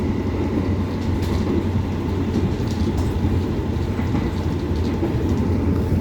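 Steady rumbling and rattling from inside a moving Argo Lawu executive train carriage, with continuous clatter, rocking and low vibration, no voices.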